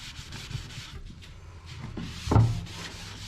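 Black paint being rubbed into a wooden sign with a cloth, a soft, quiet, continuous scrubbing that ends in a brief thump.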